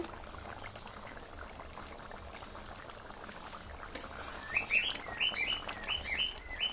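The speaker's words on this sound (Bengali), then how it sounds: "আমার পাখিগুলোকে দেখছো কি আওয়াজ দিচ্ছে" Pet birds chirp in quick, bright bursts over a low bubbling of chicken curry simmering on a stove, the calls growing busier toward the end.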